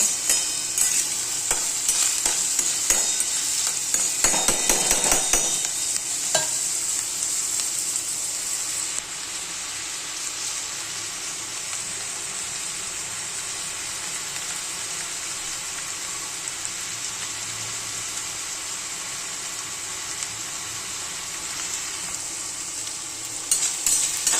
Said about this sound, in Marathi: तोपर्यंत कांदा इकडे फ्राय होत आहे.